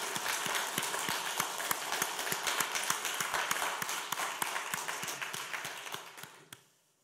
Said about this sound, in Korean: 우리 주님의 이름으로 환영의 박수 한번 드리겠습니다